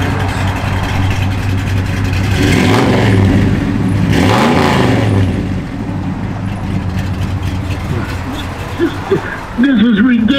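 A 1955 Ford F100 pickup's V8 with a lopey cam idling and being revved, the engine swelling twice in quick blips over a rough, loping idle, close by, with a voice briefly heard near the end.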